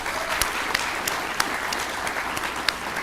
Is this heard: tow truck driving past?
no